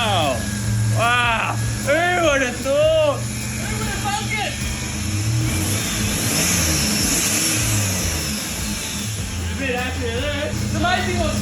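A turbo Ecotec engine in a Ute drift car idles and revs, with rising and falling engine pitch running under frequent nearby talk.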